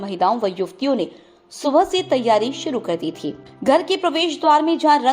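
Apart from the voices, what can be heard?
No distinct noise like a dog, phone or traffic.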